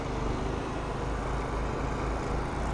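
A Hustler Surfer Pro 34-inch stand-on mower engine running at full throttle, a steady low continuous drone, close and even throughout with no talking.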